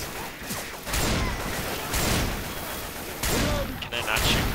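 Rapid gunfire in the zombie shooter Left 4 Dead 2 as a player fires at a fence, loud repeated bursts of shots in several clusters with game ambience between them, and faint voices underneath.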